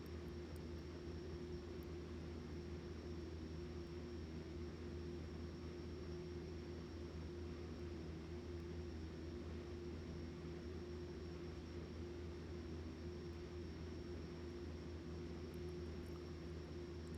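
Simulated Pilatus PC-12 turboprop taxiing in X-Plane 11, a constant droning engine and propeller hum with steady broadband noise, unchanging and fairly quiet for the whole stretch, no talking.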